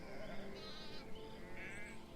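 Sheep bleating in the medieval video game The Pillars of the Earth, a few wavering bleats close by over a steady ambient bed, with no talking.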